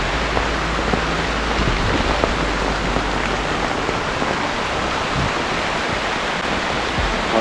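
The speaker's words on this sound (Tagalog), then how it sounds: "Lakas ng ulan." Heavy rain pours steadily outdoors, a dense continuous hiss of drops pattering on leaves and surfaces that stays loud and unbroken throughout with no voices.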